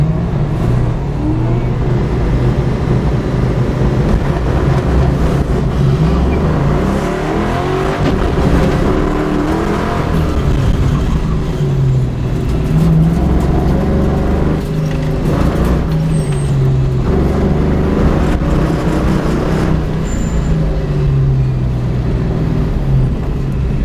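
An SN95 Ford Mustang's engine on an autocross run, loud and continuous, revving up and down through the corners for the whole stretch with no talking.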